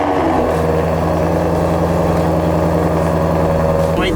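A car engine running at a steady idle, loud and close, with a constant low hum and tonal layers and a small shift near the end.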